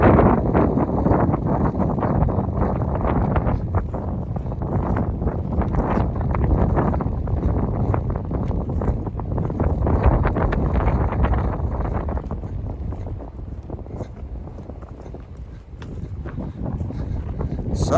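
Strong wind buffets the microphone on an open hilltop along the Appalachian Trail, a steady loud low roar with gusty swells that continues throughout, with no other sounds rising above it.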